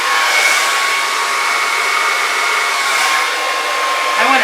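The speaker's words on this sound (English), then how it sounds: "I want to turn my blow dryer off." A loud, steady whoosh of a blow dryer blowing acrylic paint during fluid acrylic pouring, running continuously at close range, with no talking.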